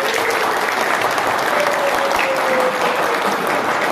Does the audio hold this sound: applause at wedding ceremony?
yes